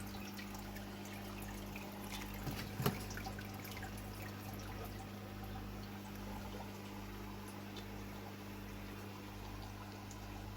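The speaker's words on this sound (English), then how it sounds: "While this will be pouring in water, I can disconnect this tube" Water pours steadily through a tube into an aquarium tank, a faint continuous trickle over a low mains hum, with one brief knock partway through.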